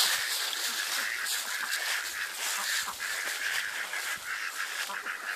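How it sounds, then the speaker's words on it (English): Demi-sauvage ducks calling together outdoors, a continuous chorus of overlapping honks and quacks from a flock at moderate distance, busy and unbroken, with no talking. "These are demi-sauvage ducks"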